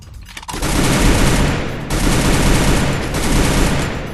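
Rapid automatic gunfire in the Free Fire video game, a loud, dense fusillade of shots close up that runs almost continuously, with brief dips between bursts.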